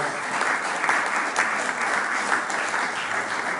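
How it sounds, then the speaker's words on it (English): An audience at a tribal election candidates forum applauds the candidates, a sustained wash of many hands clapping at even loudness for several seconds. "Let's give all the candidates a round of applause."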